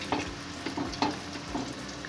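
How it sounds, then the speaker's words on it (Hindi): Cheese and potato balls fry in hot oil in a wok, a soft steady sizzle punctuated by a few sharp stirring clinks and scrapes. "तो अब मैं इसमें इसको फ्राई कर रही हूँ"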